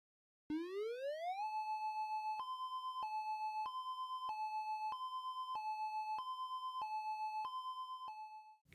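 An outdoor warning siren sounds alone, first rising in a steep electronic sweep, then holding a steady tone that alternates between two pitches in regular steps, clear and sustained.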